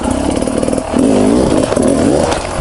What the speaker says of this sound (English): the double blip I'm going to show you today, is really practical